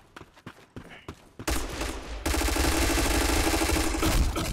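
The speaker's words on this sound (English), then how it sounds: "Who are you shooting at?" Rapid video game gunfire in a one-on-one match: scattered single shots at first, then a dense sustained burst of automatic fire that grows louder, close and continuous with no talk.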